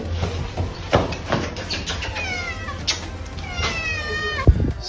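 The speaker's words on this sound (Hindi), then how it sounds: "और बिल्ली कहाँ गया" Cat meowing close by indoors, several drawn-out wavering meows repeated over a few seconds amid light background noise and a thump.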